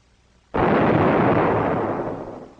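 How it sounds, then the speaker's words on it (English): After a quiet moment, a hot water tank with water superheated to 300 degrees suddenly explodes with a loud booming blast that becomes a sustained rushing steam roar and gradually tapers off. "the engineers almost got a steam bath from this explosion"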